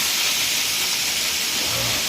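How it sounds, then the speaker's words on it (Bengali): Fish simmering in a pot for a cat gives a steady, loud boiling hiss with faint low bubbling underneath, unbroken throughout. "মাছ সিদ্ধ হচ্ছে, বিড়ালের জন্য মাছ সিদ্ধ হচ্ছে"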